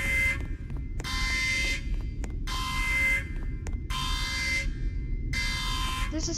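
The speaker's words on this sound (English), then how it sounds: "Wow, the alarms are so good." An emergency alarm in a Roblox Among Us-style game blares in repeated long pulses, about five loud electronic buzzes spaced evenly with short gaps, over a low background rumble.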